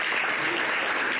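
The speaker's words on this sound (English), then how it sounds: "Let's give her a round of applause for that." Audience applause at a business presentation in Freeport, Bahamas, a steady dense wash of clapping from a sizable crowd, fairly loud and continuous with no gaps.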